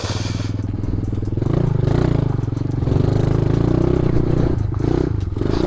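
A mini motorcycle labours through a deep mud bog, its small engine droning and revving steadily with clattering and scraping from the wheels churning the mud, close and loud throughout with no talk.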